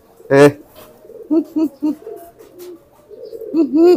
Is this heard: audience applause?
no